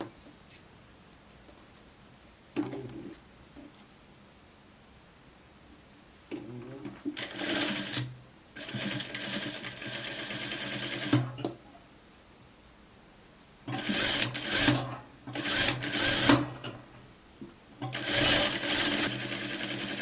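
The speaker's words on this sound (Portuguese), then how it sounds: "Eu posso costurar a curva de cima" A sewing machine stitches the upper curve of a raglan-sleeve coat up close, running in three bursts of rapid stitching separated by quiet pauses, with no talking.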